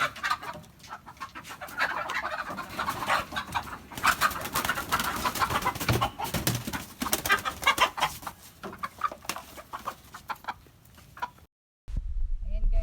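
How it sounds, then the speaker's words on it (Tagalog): Soft clucking and cooing from a hen close by, with small chirps from chicks and some rustling, running for several seconds before a brief quiet. "ito yung manok natin na may mga sisiw"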